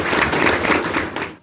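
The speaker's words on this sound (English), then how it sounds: "Let's give a round of applause to our boys wrestling team." Loud, dense applause from an audience for a high school boys wrestling team, a steady wash of clapping that fades out at the end.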